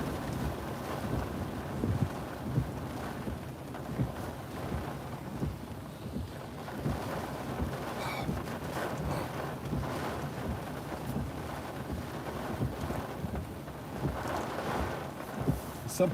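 Hurricane Idalia winds in Perry, Florida roar steadily and loudly through the whole stretch, with constant gusty rumble and buffeting against the microphone, no voices heard.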